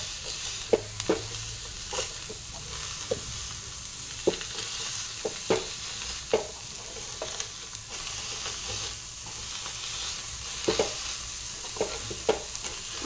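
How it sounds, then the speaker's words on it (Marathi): Roasted green chickpeas are mashed in a hot pan over steady frying sizzle, with soft scattered taps and scrapes of the masher against the pan, close and without speech. "अशा पद्धतीने मॅश करायचे आपल्याला"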